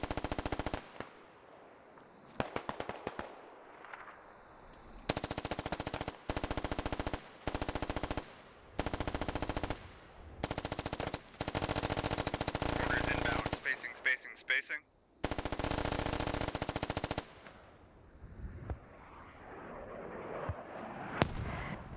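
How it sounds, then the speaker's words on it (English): Mortar and gunfire in the video game Squad, with loud repeated blasts and bursts of automatic fire in dense clusters, broken by short gaps, with voices talking in places. "those are some bad mortars"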